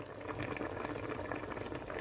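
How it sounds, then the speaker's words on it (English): Nigerian party-style egusi soup boils hard on high heat in a pot, a steady dense bubbling and gurgling throughout, close and moderately quiet, with no voices. "It has been boiling for almost 5 minutes on a high heat."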